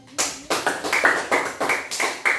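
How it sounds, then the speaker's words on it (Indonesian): Classroom applause, a group clapping in a short rhythmic pattern of repeated sharp claps, close and clear with no talk. "Nah, juga aplaus."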